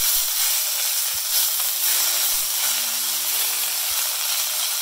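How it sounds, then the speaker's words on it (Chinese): Chives and carrot strips stir-fried in a wok over high heat give a loud, constant sizzling hiss from start to finish, with occasional soft knocks and faint tonal hums beneath it. "韭菜啦，金笋条啦，全部掟晒落去炒"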